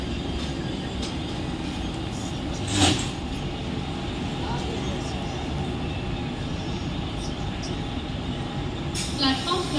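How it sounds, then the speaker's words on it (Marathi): A Mumbai slow local train bound for Thane pulls into the platform with a steady low rumble, under the station's ambient din, with sharp clanks near the start and end. "Local arrived on platform number 1 is 10 hours 27 minutes."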